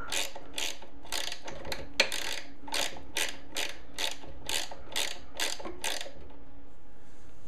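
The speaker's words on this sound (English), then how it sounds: "I'm going to go ahead and remove this bolt here" A ratchet wrench clicks in rapid, even strokes while backing a bolt out of the motor on a Delta 22-540 planer. The sound is close, moderately loud and heard alone.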